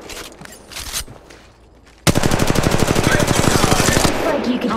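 Rapid automatic gunfire from Apex Legends Mobile bursts in loud and steady for several seconds after a quieter stretch, dense repeated shots close up.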